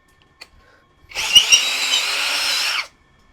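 Gtools GT34 cordless impact drill boring into concrete with a 10 mm bit on impact mode, speed 2: a loud, steady whine-and-hammer burst of about two seconds after a few faint clicks, then silence.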